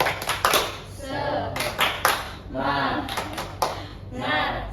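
A group of schoolchildren in a group counseling session performs the rhythmic 'tepuk semangat' clapping chant, with bursts of hand claps alternating with chanted voices in a lively, uneven pattern.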